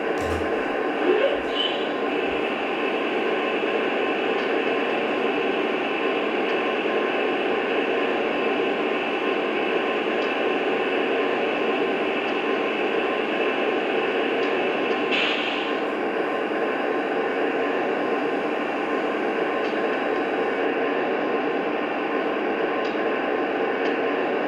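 A model train locomotive, HO or O scale, runs through its shutdown sequence: a steady, continuous hiss and hum with a few faint clicks, unchanging and close for the full length.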